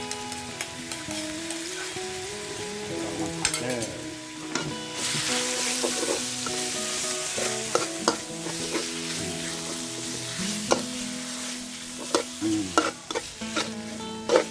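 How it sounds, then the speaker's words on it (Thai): Minced pork stir-frying in a little oil for Thai nam prik, a steady loud sizzle with constant scraping and clattering of a spatula against the pan throughout, no voices. "ก็ผัดจนกว่าหมูจะสุกเลย"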